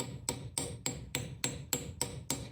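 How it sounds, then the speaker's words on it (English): Socket tapped with a hammer to seat a seal in a 1951–56 steering gearbox, eight sharp metallic taps at an even, moderately quick rhythm, close and clear with no talking. "I can tap on the socket to make sure my seal is fully seated"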